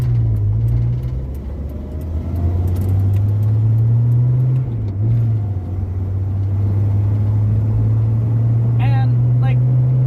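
A 1981 Ford Mustang in fourth gear cruises a residential road at low speed with a steady low engine hum and one brief rise and dip in pitch, and someone talks over it throughout.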